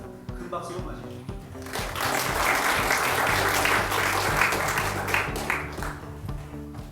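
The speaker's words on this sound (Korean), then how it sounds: "큰 박수로 맞이해주십시오." A forum audience at a regional economy event applauds to welcome the opening speaker, a thick burst of clapping that rises after a short spoken introduction and holds steady under background music.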